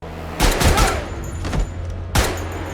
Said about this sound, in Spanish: recibe un disparo de su propio compañero